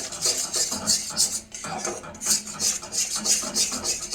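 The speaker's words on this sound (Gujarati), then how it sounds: "આને આપણે આવી રીતે ધીમે ધીમે ધીમા ગેસ ઉપર એને મિક્સ કરતા રહેવાનું છે" A spoon stirs melted jaggery for sesame laddus in a pan over low gas, making rhythmic scraping and rubbing strokes against the metal in quick repeated bursts, close and fairly loud.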